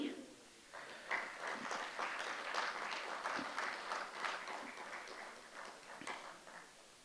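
Audience applause at a performance event, a fairly faint, sustained patter of clapping rising quickly and continuing for several seconds with no talk over it.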